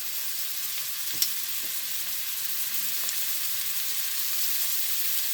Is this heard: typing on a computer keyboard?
no